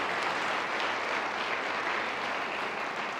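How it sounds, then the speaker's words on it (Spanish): A church congregation applauds steadily, a dense, continuous wash of clapping that stays at an even level throughout with no voices standing out. "Denle un aplauso al Señor si está recibiendo una palabra."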